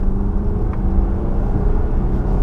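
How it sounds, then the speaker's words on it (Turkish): A 2017 Volvo S90 in dynamic mode accelerates after two downshifts, a loud, steady low engine rumble and whir heard from inside the cabin, with no talking. "Bir de şöyle vitesi küçültelim. Bir tane daha küçültelim. Ve basalım."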